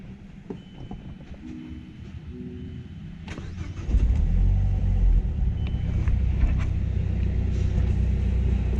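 A Mazdaspeed3 engine cranks and catches, then settles into a steady, loud idling rumble close by.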